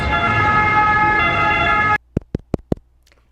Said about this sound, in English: I was gonna delete this clip because the sirens are so loud and annoying